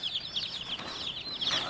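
Young chicks in a cage give rapid, high, rising peeps in quick runs, fairly faint and close, with no other sound competing.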